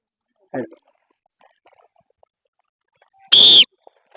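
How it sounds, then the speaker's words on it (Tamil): A coach blows a single loud, sharp whistle blast to start a sandbag run at physical training for a railway recruitment test, following a short word and a quiet pause. "விசில் பண்ணுவேன், அதுக்கு ஸ்டார்ட் பண்ணுவேன்."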